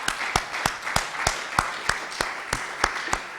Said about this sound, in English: May I suggest the audience to play a round of applause.